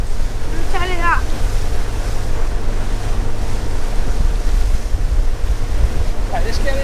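Strong wind buffets the microphone at sea aboard a small fishing boat in Milford Haven, Pembrokeshire, a constant loud roar with surf and wave wash beneath, plus a brief squeaky sound near the start and another near the end.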